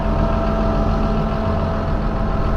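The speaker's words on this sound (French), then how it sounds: "ça c'est un des tracteurs de chez eux qui va rouler" A Claas Arion 620 tractor engine idles with a steady, even rumble, loud and close, alone with no talk.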